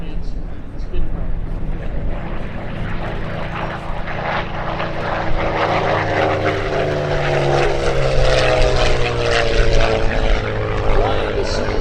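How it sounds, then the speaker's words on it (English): Supermarine Spitfire WWII fighter flying low over the ground, a steady loud piston-engine drone with a rising whine as it passes close, no talking over it. "Flying the Super Marine Spitfire right down on the deck"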